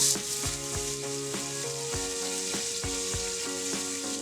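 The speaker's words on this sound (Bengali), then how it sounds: "তেল দিয়ে দিলাম অল্প, পেঁয়াজ দিলাম" Onions frying in a little oil for beef tehari pilaf, a steady close sizzle with regular scraping stirs of a spatula against the pot, with no talking.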